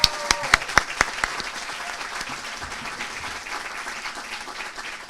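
Award honorees at the 2023 California Green Ribbon Schools ceremony receive applause: a few sharp, separate claps up front swell into steady, dense clapping from the audience that holds evenly to the end.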